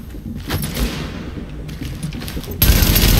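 Gunfire in The Division, a rapid rattling volley that swells and fades, then a louder, harsher burst of shots in the final second over a busy game background.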